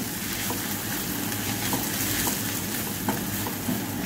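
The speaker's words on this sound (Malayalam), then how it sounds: "കുരുമുളക് പൊടി പിന്നെ ഗരം മസാല ഇതെല്ലാം കൂടെ നമുക്ക് നന്നായി വഴറ്റിയെടുക്കാം" Pepper powder and garam masala sauté in a pan for an egg puffs filling, a continuous low sizzle with faint stirring taps. No one speaks.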